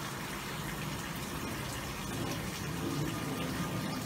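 Water drains out of an LG direct drive washing machine in a garage, a steady gushing, pumping flow that holds level throughout.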